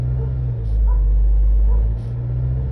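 A car engine revved to about 2,000 RPM while its turbocharger is being cleaned, heard as a deep, close rumble that swells for about a second and then eases back to idle.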